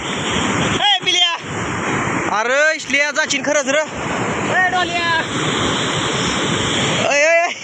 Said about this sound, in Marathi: दोन दार पडल्यात म्हणून पाण्याचा वेग तर लय